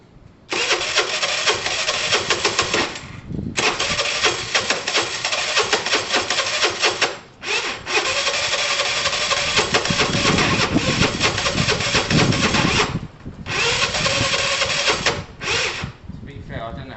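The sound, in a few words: Piaggio Typhoon 125 scooter engine starting up and idling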